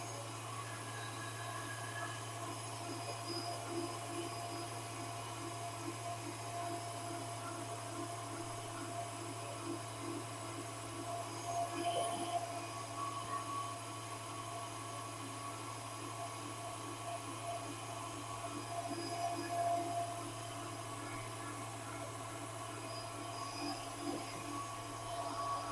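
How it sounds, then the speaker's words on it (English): Electric stand mixer whipping macaron meringue at increased speed, a steady whirring motor drone with a constant hum running throughout, fairly even and continuous with small surges. "will increase the speed of the mixer."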